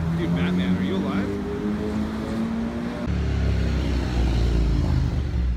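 A Ducati motorcycle passes by outdoors, its engine note rising and falling steadily over a few seconds, mixed with wind and voices talking nearby.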